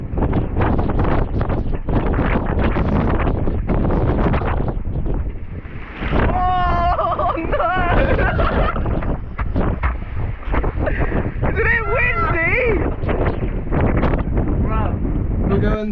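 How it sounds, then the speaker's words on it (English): Strong wind gusting across a sailboat at sea in the gap between two Caribbean islands, heard as loud continuous wind roar buffeting the microphone, with voices talking over it throughout. "the wind is just hooning it through the gap between the islands. So it's really windy and wavy out there."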